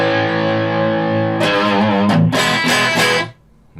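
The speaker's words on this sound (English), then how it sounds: "So the first one is this full tone OCD," An electric guitar through a Fulltone OCD overdrive pedal rings out a loud, sustained distorted chord, then several gritty strummed chords before cutting off abruptly.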